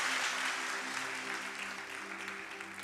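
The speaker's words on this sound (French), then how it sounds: "Est-ce qu'on peut donner un applaudissement encore une fois au Seigneur?" A church congregation claps at a French-language worship service, a continuous, even roar of applause from many people, fairly distant and soft, sustained with a low steady hum beneath it.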